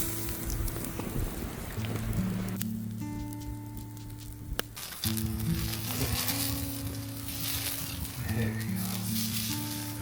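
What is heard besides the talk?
tri-tip steak sizzling while cooking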